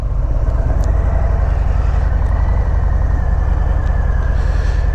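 A 2020 Harley-Davidson FXDR motorcycle pulls away from the Independence Harley-Davidson dealership, its engine a loud, steady low rumble close by for the whole stretch, with no talk.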